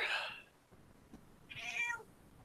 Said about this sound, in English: He lets out a meow, apparently.